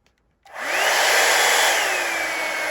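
A Drybar Double Shot blow-dryer brush switches on after a short silence and runs as a loud, steady airy whoosh with a constant motor whine, easing slightly toward the end.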